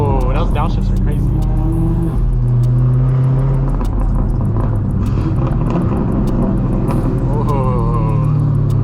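A 1000 hp Dodge Challenger Hellcat Redeye driven hard, its engine roaring loud and close with revs rising and falling through downshifts, while people talk over it.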